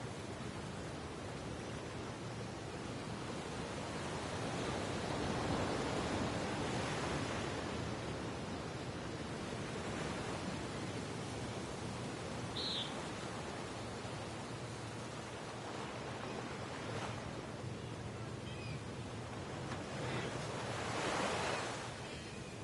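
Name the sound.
ocean waves around island golf course in video game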